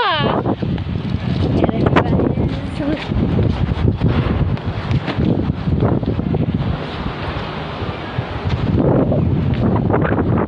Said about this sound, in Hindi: कितनी हवा चल रही है ये देखो